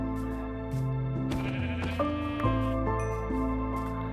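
Minecraft sheep bleating in a video game, several drawn-out wavering baas that overlap one another, loud and close, with background game music tones and no speech.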